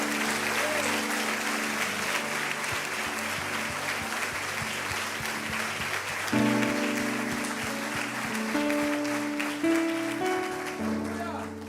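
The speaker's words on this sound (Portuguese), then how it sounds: "Vocês poderiam aplaudir a vida da Leide, por gentileza?" A church congregation applauds throughout, a steady dense wash of clapping that carries on under sustained organ or keyboard tones, swelling slightly in the second half.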